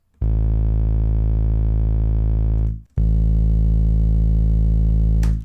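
A synth note run through distortion plugins and EQ drones loud and buzzy with dense harmonics, sustained in two long held tones separated by a brief gap.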